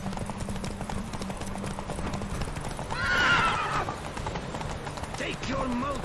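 In Witcher 3, a horse gallops with steady hoofbeats throughout, then lets out a loud whinny midway and a shorter neigh near the end, with speech underneath.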